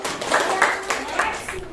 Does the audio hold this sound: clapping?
yes